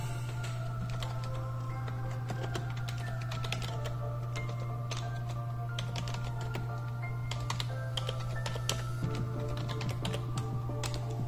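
Fast typing on a computer keyboard to enter a search, dense overlapping key clicks over a steady low electrical hum, no voice.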